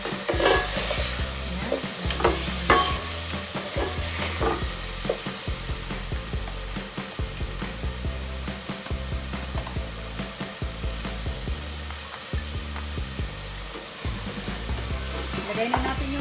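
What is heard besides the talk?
stirring pork frying in a pan for sinigang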